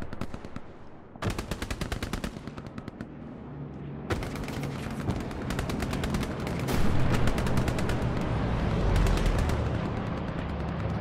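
Automatic and rifle gunfire in the Hell Let Loose video game, a sustained loud battle with rapid machine-gun bursts and sporadic shots overlapping continuously throughout.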